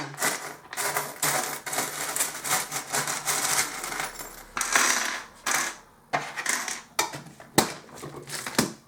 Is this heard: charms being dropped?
yes